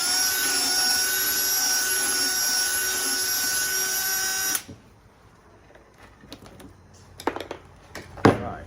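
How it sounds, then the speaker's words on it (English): A power drill boring a big hole runs at a loud, steady high-pitched whine for about four and a half seconds, then cuts off abruptly, followed by a few scattered clunks and knocks. "First of all, I'll drill a big hole."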